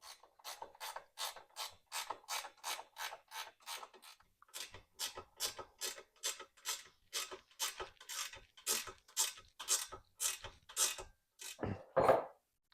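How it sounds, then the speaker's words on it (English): Wrenches ratchet repeatedly on the bolts of a Kawasaki brush guard fitted to a 2023 Kawasaki Brute Force, giving a steady run of close, sharp clicking strokes with a short pause midway and a louder final burst. "it's just a couple 10 mil wrenches you need to tighten it up."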